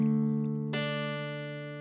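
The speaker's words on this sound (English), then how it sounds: "You could hear that it was plucking 2 strings at once." Acoustic guitar with two strings accidentally plucked together, ringing out as a sustained chord-like tone that decays slowly over about two seconds, with no talking.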